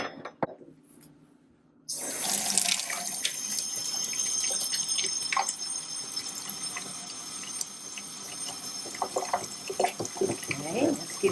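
Water runs steadily from a kitchen tap while dough for hot cross buns is mixed, starting abruptly after a quiet moment and continuing as a close, hissing stream with small splashes and clatters.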